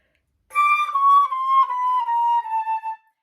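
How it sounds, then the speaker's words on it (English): A solo flute plays a short descending line of smooth, sustained notes, each held full and connected with soft separations, clear and close. "if it were tenutos, that's also smooth and connected, it would sound like this."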